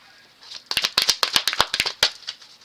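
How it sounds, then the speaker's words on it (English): A deck of cards is shuffled close up, a quick burst of crisp riffling snaps that rattles for about a second and a half, then stops. "Let me shuffle the cards real quick"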